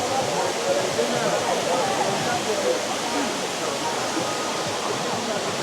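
A tall multi-stage waterfall, here its high third tier with people splashing in the pool below, roars as a steady, dense broadband rush throughout, close and loud with no clear pauses.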